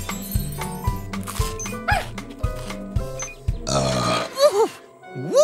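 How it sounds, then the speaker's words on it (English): A cartoon character lets out a big, exaggerated burp amid a bouncy run of plucked tones and playful sound effects, ending in a comic squeal. "Whoops! Excuse me. That was a big burp, Blippi."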